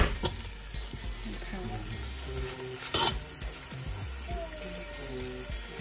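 Curry sauce is stirred in a sizzling pan with a steady frying hiss and scraping strokes, alongside brief clatter and water sounds.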